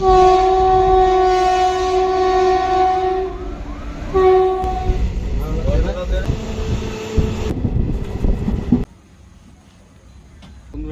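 A train horn blares in long steady tones, then heavy rumbling and clattering of rail cars takes over before dropping to a quieter hum.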